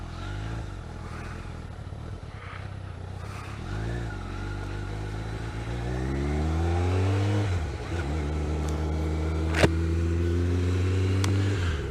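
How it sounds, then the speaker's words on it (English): A motorbike on an open road pulls away and climbs through the gears, engine note rising and falling with each shift, loud and close with steady wind rush underneath. "let's go and have a ride."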